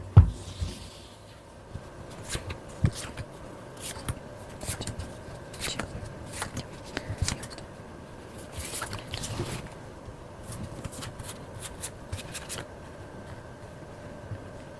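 Tarot cards are shuffled and drawn by hand at close range, a soft, continuous run of papery rubs and light flicks with scattered sharper snaps.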